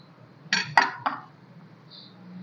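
Onions dropped into a bowl while pickle is being prepared, giving a short cluster of clattering, clinking knocks close by, then quiet.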